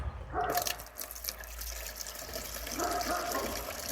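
Fresh water pours and splashes into a chicken waterer up close, with a gushing fill at the start, a brief lull, then another swell of running water.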